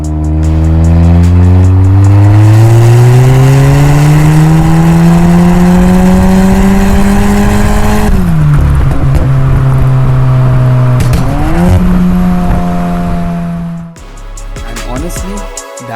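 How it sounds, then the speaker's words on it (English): A Stage 2 tuned Volkswagen T-Roc 1.5 TSI accelerating hard, its loud engine note climbing steadily through a long gear, dropping at a shift, climbing again, then easing off. "Now that you have heard how the T-Roc sounds, let's talk about how it looks."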